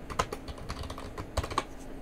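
Key presses on a computer keyboard while entering a Control Delete shortcut, a handful of sharp, irregular clicks and taps close by with no talking.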